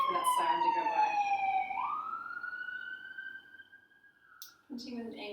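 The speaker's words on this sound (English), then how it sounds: "we'll wait for that siren to go by." A siren passes outside, a single falling then rising wail that is clear but moderately distant and fades out as a voice begins speaking.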